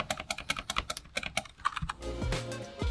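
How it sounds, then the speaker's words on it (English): Keys clatter in rapid, uneven taps on a Razer DeathStalker V2 Pro wireless low-profile gaming keyboard, soft and quiet up close, giving way to a brief low rumble and hiss near the end. "Now, this is a nice and quiet keyboard"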